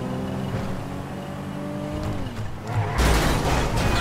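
A hearse's engine in GTA5 Online rumbles steadily with harmonic tones that rise then drop, as if shifting, before a louder, rougher burst of road and engine noise closes the short stretch.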